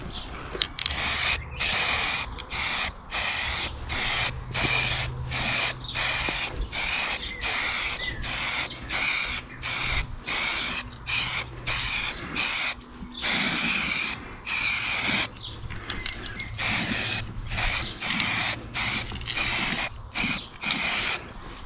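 Raptor coating paint sprayed onto steel van wheels, loud close hissing bursts from the spray gun in a fast regular on-off rhythm, each burst cut by short gaps, continuing throughout.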